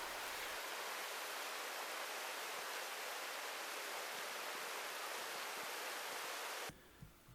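Steady rushing water of a mountain stream at Cheongnyudong, the 18th scenic spot of Gucheondong valley in Deogyusan, flowing over broad bedrock; loud, constant and close, cutting off abruptly near the end.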